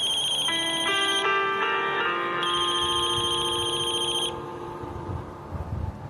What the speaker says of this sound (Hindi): अरे अर्जुन का ही फोन है।